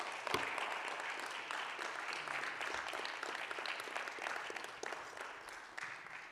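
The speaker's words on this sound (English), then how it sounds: "Clap your hands, and please, as he comes." Audience at a pastors and leaders conference claps steadily as a speaker comes up, a dense sustained round of applause from a large crowd at moderate distance with a few sharper individual claps.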